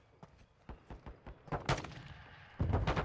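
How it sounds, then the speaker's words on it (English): Gunfire in the video game Call of Duty Modern Warfare 2, a run of sharp single shots at first, then denser, louder bursts toward the end. "What is he shooting?"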